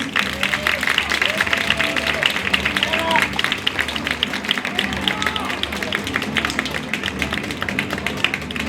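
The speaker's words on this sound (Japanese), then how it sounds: "皆様大きな拍手をお願いいたします。" A crowd at a kickboxing event claps in a sustained, loud round of applause during a trophy presentation in the ring, with background chatter and a few voices rising above it.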